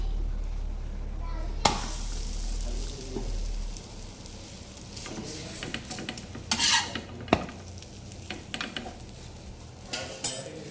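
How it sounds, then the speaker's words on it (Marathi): Dill-leaf paratha roasting on a pan over a low sizzle, with sharp clinks and knocks of a utensil against the pan scattered throughout, fairly quiet and close. "असा दुसरा पण तुम्हाला भाजून दाखवते"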